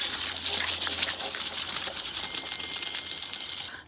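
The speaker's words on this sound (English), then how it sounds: "I got a hose on. I'm gonna clean out the joints." A garden hose sprays water across tile joints to flush them clean, a loud, steady hiss of gushing water held close for nearly four seconds before cutting off abruptly.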